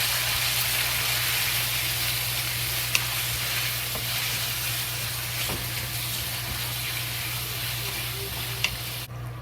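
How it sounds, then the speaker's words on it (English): Sliced beef with cumin stir frying in hot oil, a steady broad sizzle with a low hum underneath and a couple of faint utensil clicks, continuous and without talk. "Just slowly fry until the beef is fully cooked."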